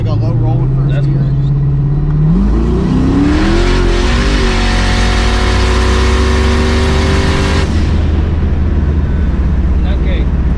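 A 1000+ hp turbocharged Camaro pulls hard from a low rolling first gear, its engine note climbing steeply and roaring loud before the throttle lifts, with people talking around it.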